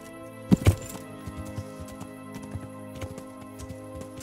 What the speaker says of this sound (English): And I got a horse now.